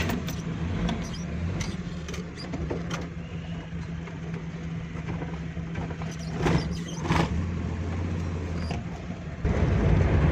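A Suzuki Mehran car being driven on the road while its gearbox is checked for a gear problem, with a continuous moderate engine rumble and road noise, small clicks and knocks inside the cabin, and a pitch change near the end.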